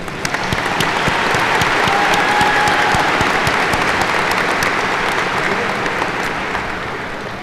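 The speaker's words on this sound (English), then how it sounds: "I think that deserves a big round of applause" A large crowd at a graduation ceremony applauds steadily, dense clapping filling the whole stretch with a sustained, even roar.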